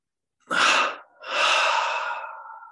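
Two quick, forceful inhales in a row during guided meditation, loud and very close, the second breath drawn out longer before it fades, in an otherwise silent room.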